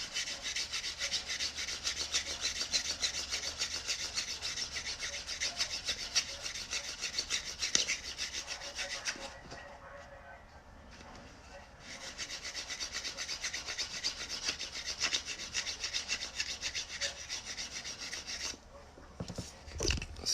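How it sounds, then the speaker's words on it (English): A small nail file sands the cut edge of a coin ring made from a Susan B. Anthony dollar, giving a steady, close scratchy rasp that runs almost continuously, with one brief pause partway through. "now we're just going to clean up this cut edge, and I'm just going to sand that with a little nail file real quick."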